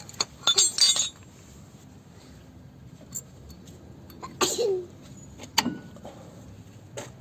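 A single sharp sneeze bursts out among quiet clinks of glass and small handling noises in a calm room during an Opel brake pad replacement.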